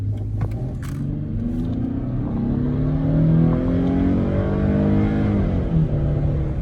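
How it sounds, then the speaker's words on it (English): A 2007 Dodge Charger accelerating on the road, its engine note rising in a steady, rumbling climb heard from inside the car, with no talk over it. "So I'm gonna give it a little gas, just to see what we got on the hood."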